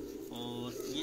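White pigeons of an old breed coo on a rooftop loft, a low, resonant burbling call close by, with someone talking over it.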